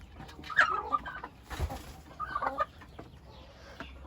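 Hens and roosters cluck in a farmyard coop, with several bursts of clucking spread across a few seconds at moderate distance and quieter gaps between them.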